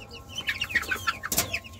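Young Selema chickens among fancy hens give quick bursts of high chirping clucks, close and fairly loud, with a sharp brief noise near the end.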